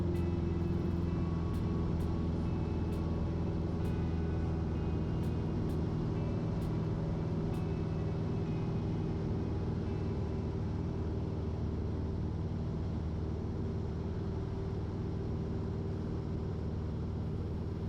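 A light aircraft's engine, throttled back to cruise power while leveling off at 1,000 feet, drones loud and steady inside the cockpit with an even, tonal hum and no speech.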